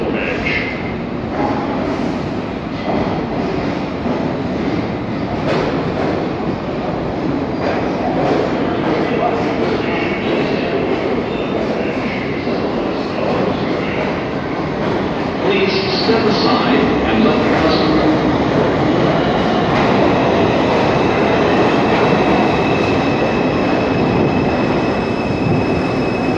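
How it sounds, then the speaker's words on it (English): A subway train rumbles steadily into a station, a loud continuous roar with some metallic wheel noise, announcements or voices faint in the background. "Approaching the station, please stand away from the platform edge."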